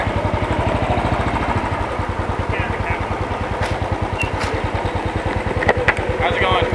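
A motorcycle engine runs steadily at a police motorcycle checkpoint in New York City, a loud, close, rapid low thumping rhythm that continues throughout with a few faint higher clicks.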